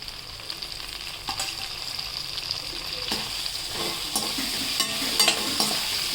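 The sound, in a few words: ginger garlic paste and tomatoes frying in pan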